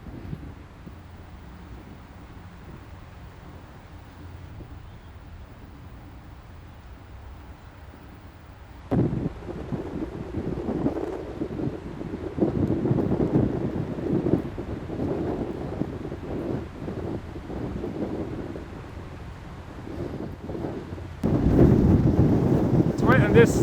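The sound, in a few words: wind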